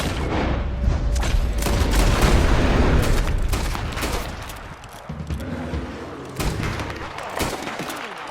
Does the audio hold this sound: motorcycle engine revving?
no